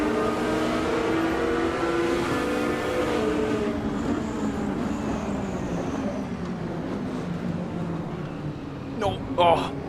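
Lamborghini engine revving in the racing game Automobilista 2 at the Nürburgring Nordschleife, a steady loud droning engine note that shifts pitch, with speech and a brief clatter near the end.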